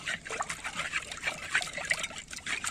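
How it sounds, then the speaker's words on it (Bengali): Date palm juice batter for chitoi pitha, made with rice flour, poured into a pot, giving a soft trickling, splashing liquid sound, faint and continuous. "আমি এখন পাতিলের ভিতরে ঢেলে দেব।"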